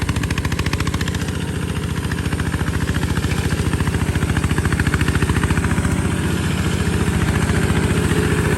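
Steady, loud, rapid chugging of the diesel engine on a 15.5 hp 4x4 ride-on mower, running at a constant pace throughout with no voices.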